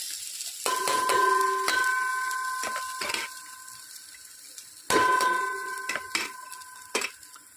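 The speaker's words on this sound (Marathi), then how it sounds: "उडदाची डाळ घेतली थोडंसं तेल घातलं आहे अर्धा चमचा आणि तर परतून घ्यायची" Urad dal sautéing in about half a spoon of oil gives a steady close hiss, broken by sharp scrapes and taps of a spatula stirring the pan, with a faint steady tone running underneath and no talking.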